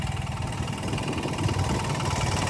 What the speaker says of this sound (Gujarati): મગફળીના વાવેતરમાં 24ની જાળી અને મિની ટ્રેક્ટર હાલે છે